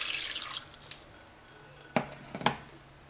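A cup of water pours into a big pot of spare ribs with orange juice, a short hissing splash at first, then two brief, distinct splashes a moment later, all fairly quiet and without speech.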